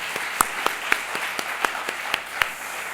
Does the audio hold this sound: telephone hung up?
no